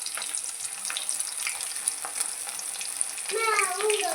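Fish frying in hot oil gives a steady, close crackling sizzle throughout, with a brief voice-like tonal sound rising near the end.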